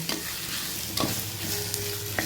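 Tomatoes sautéing in a pan for mutton kulambu, a soft steady sizzle with a few sharp scrapes of a spoon against the pan, close and alone with no voices.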